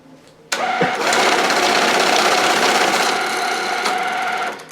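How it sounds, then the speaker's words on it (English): A banknote counting machine feeding a stack of mixed-denomination bills starts abruptly and runs as a steady, loud, close whirring rush of rapidly flicking notes for about four seconds before winding down. "Now the machine will count and will detect all denomination"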